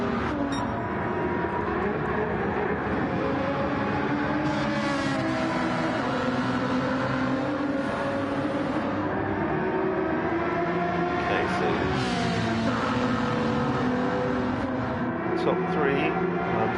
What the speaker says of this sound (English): that Ford GT race car is an absolute rocket ship down the straights